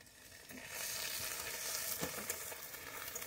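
Ginger, garlic and onion sizzle steadily in a hot pan over an outdoor village fire, with a continuous crackling fry and occasional stirring scrapes, close and alone.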